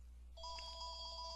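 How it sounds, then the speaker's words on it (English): A phone rings with a steady electronic trill, faint and continuous, starting abruptly over a low background hum. "That's my phone."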